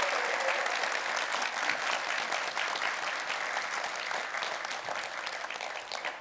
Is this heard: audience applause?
yes